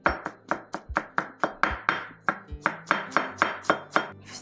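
Ingredients for homemade kuksi, including plenty of garlic and meat, are chopped with a knife on a board. About twenty crisp, evenly spaced chops ring out loud and close, with no talking.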